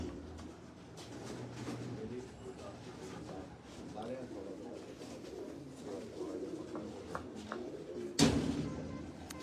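Pet pigeons coo softly in low, repeated rolling notes beneath men chatting nearby, with a sharp bang near the end.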